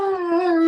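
A dog gives one sustained, steady howl up close on command, loud and tonal with no talking over it.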